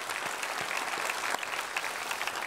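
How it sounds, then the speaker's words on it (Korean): A church congregation applauds steadily and close by during a Sunday worship service, a dense wash of clapping with no talk over it. "서로를 격려하며 축하 박수 드립시다."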